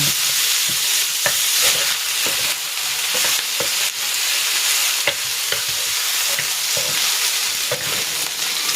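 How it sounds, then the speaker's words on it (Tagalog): Pork sizzles in hot oil as its fat renders out, a dense steady crackle and spatter filling the whole stretch, with irregular stirring clacks and scrapes of a utensil against the pan, close and loud, no voices. "Isasalang ko muna itong pork. Papalabasin ko muna yung mantika nito."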